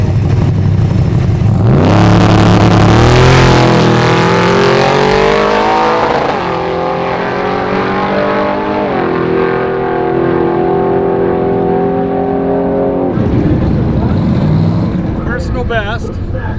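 A drag-racing truck engine revs hard and climbs through several gear changes, loud and close, running up against the rev limiter, then drops off to a lower drone near the end.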